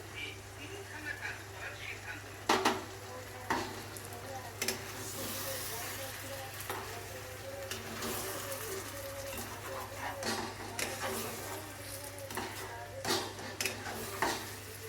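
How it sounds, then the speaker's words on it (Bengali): Spice paste with salt, turmeric and chilli for Kashmiri aloo dum is stirred in a pan, with a soft sizzle, intermittent scraping and light utensil clinks over a low steady hum, heard close but faint. "এখন আমি এই পেস্টটাকে একটুখানি মিক্সড করে দিচ্ছি"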